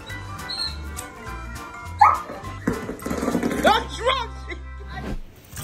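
A German Shepherd gives short barks and yips close up, mixed with whimpering, while people talk over it.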